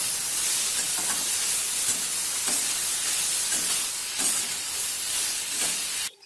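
Tomatoes and onions fry in a pan on a gas stove, giving a steady, even sizzling hiss that goes on without a break and cuts off at the end.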